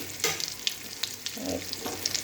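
Potatoes and taro sizzle and crackle in hot oil in a pan, a steady frying hiss with brief stirring scrapes throughout, close and alone without voices.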